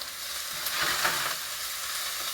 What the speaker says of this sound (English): we're just sauteing up these onions.